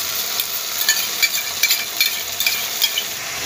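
Chili eggs fry with chili sauce, soy sauce, tomato sauce and vinegar in a hot pan, a loud continuous sizzle broken by the scrape and tap of a spatula stirring at close range, no voices.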